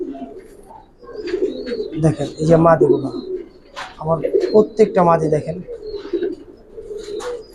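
Female Giribaz pigeons coo in a loft, repeated rolling calls mixing with someone talking close by throughout.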